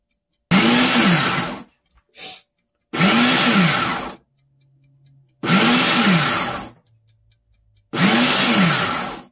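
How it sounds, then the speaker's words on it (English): A food processor chops vegetables in four loud bursts of whirring and chopping, each about a second and a half, with short pauses and small clicks between pulses. "Everything else is going in this food processor."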